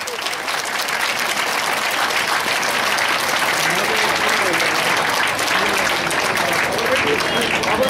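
Students at a school program applaud loudly, a dense continuous wash of clapping from a large gathering that holds steady throughout.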